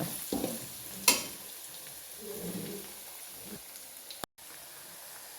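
Curry leaves are dropped into hot oil for mango pickle and give short, faint sizzling bursts with quieter stirring in between.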